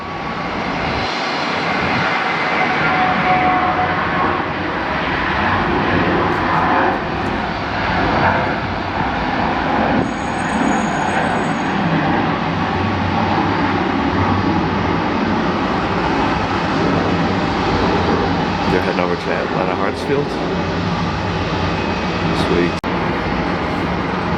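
A PSA Airlines regional jet with a retro livery takes off at Dallas Fort Worth airport, its engines giving a steady, loud, broad roar that holds for the whole stretch, with faint wind and a few clicks mixed in.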